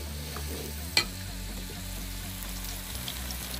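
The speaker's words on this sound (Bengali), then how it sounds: "ফ্রাইড রাইসের জন্য মুরগি ভাজা হচ্ছে।" Chicken frying in a pan for fried rice at an outdoor picnic, a continuous moderate sizzle with one sharp clank of utensil against metal near the start and faint stirring scrapes after it.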